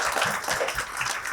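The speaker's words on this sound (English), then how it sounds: "Huge round of applause for Vinay Narkar sir." An audience at a corporate financial-services session in Mumbai claps steadily, a dense, even wash of applause with no pauses and no voices over it.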